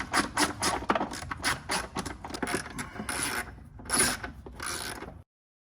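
A ratchet with a 10 mm socket clicks rapidly in repeated bursts while removing bolts on a Mercedes ML500, close and fairly loud, with short pauses between runs before stopping abruptly.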